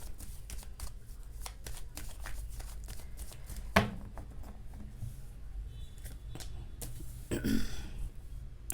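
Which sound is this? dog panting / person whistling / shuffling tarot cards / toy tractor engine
shuffling tarot cards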